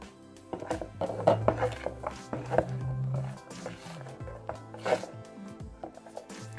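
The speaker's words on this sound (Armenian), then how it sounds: "Եվ ուղակի գդալի օկնությամբ կխառնենք։" A spoon stirs crepe batter for meat crepes in a bowl, making irregular, close scraping and tapping sounds against the bowl, moderately loud, with no talking.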